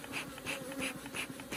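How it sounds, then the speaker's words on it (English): A dense, steady buzz of a honeybee colony humming together, close by, with a gently pulsing swell and no talking. "full of bees."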